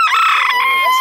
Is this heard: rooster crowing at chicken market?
yes